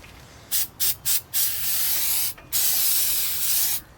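An aerosol can of brake cleaner sprays onto the front brake pads of a 2001 Ford Explorer in short bursts, then longer steady hisses with brief pauses between, loud and close.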